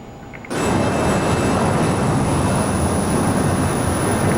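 A Learjet 35A jet engine in Microsoft Flight Simulator cuts in abruptly after a quiet moment and holds as a loud, steady roar with a high whine on top, no talk.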